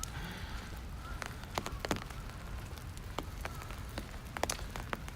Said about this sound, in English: welcome to the rainy weather after the snow yesterday and today.